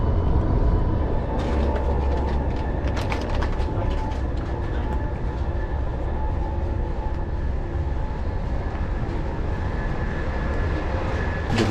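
Steady, loud interior rumble of Turkey's fastest high-speed train running, continuous broadband roar with faint clicks and rattles, no talking.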